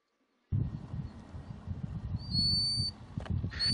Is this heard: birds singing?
yes